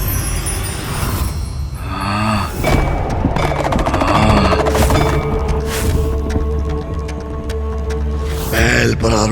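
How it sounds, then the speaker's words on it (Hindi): Heavy explosion effects from the Hindu mythological TV series Vighnaharta Ganesh: repeated booming blasts and crackling bursts like gunfire, loud and sustained for several seconds, with dramatic voices woven underneath. "ये कैसा विस्फोट था?"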